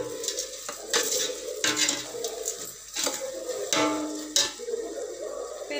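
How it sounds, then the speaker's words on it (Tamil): Onion, tomato and ginger-garlic paste are sautéed in a pan for home-style chicken biryani, with a spoon repeatedly scraping and clinking against the metal over a steady sizzle, close and continuous. "இஞ்சி பூண்டு பேஸ்டையும் தக்காளியும் போட்டு நம்ம நல்லா வதக்கிக்கணுங்க"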